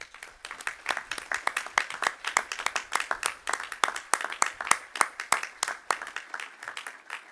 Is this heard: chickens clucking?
no